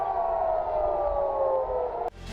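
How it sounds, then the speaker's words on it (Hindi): A rocket warning siren from an Iron Dome air defense system wails steadily and loudly with a slowly falling pitch for about two seconds, then cuts off abruptly. "इसके बाद ये सिस्टम इलाके में एक सायरन बजाता है"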